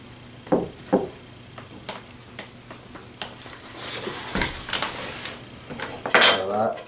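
Eggs and all-purpose flour being mixed in a bowl for an 18th-century rhubarb pie: a run of separate close clinks and taps of utensil on bowl, turning into quicker scraping and stirring toward the end, with no talk.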